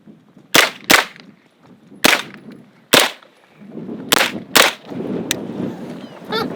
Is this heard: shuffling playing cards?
no